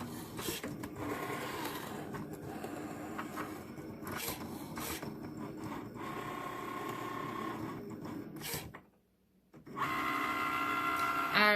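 A Cricut cutting machine runs its rotary blade through a face mask pattern, giving a steady mechanical whir with rhythmic clicks and motor pulses, a brief pause near the end, then resuming more brightly.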